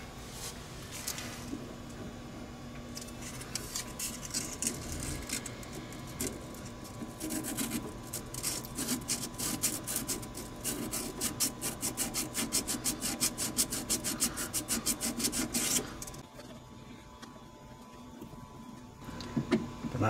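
Folded 400 grit sandpaper rubbed rapidly back and forth across the contacts of a 1938 Seeburg Regal jukebox, a close, dense rasping scrape that runs steadily for about fifteen seconds before stopping.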